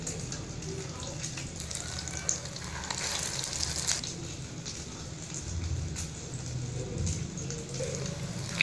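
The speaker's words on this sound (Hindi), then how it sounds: "बिल्कुल लो फ्लेम पे मैंने इसे कुकिंग ऑयल में डाल के रख दिया था" Chicken shami kabab tikkis dipped in egg sizzle steadily in cooking oil over a very low flame, a soft, continuous frying hiss.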